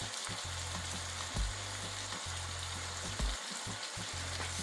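Bell pepper and garlic frying with tomato in a hot pan while being stirred, a dense steady sizzle with occasional utensil knocks, close and fairly quiet.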